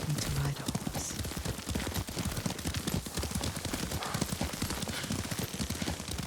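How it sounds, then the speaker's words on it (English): Horse hooves gallop in the video game Ghost of Tsushima, a rapid, steady drumming of hoofbeats that runs unbroken for several seconds at close range. "Lord Sakai taught me to ride a horse"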